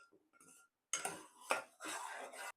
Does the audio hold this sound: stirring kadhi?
yes